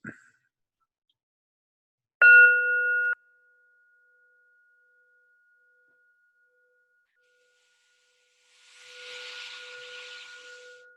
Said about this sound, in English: Using the bell as an alarm clock